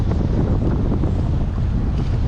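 Strong wind buffets the microphone outdoors on a fishing trip, a steady, loud, low roaring rush that never lets up, with no voices over it.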